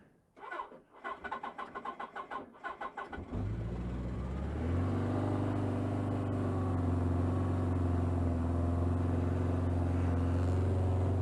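Suzuki GS 1000 motorcycle on full choke after a cold week: a rapid train of starter cranking pulses, then the engine catches and settles into a loud, steady, rumbling idle.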